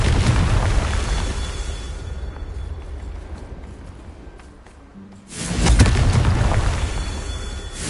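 Confringo fire spell blasts in the Hogwarts Legacy video game: a loud, booming explosion fills the opening seconds and fades into rumble, then after a brief lull a second heavy blast erupts and roars on.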